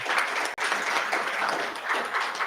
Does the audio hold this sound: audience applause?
yes